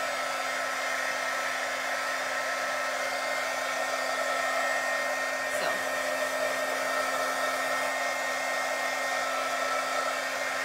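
A heat tool used for drying chalk paint runs as a steady, loud continuous blowing whir for the whole stretch, with no talk over it.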